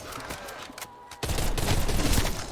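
Dense gunfire from zombie-shooting gameplay in Call of Duty: Black Ops Cold War, Firebase Z map, a brief lull then a loud, sustained burst of rapid shots filling the rest of the moment, no voices.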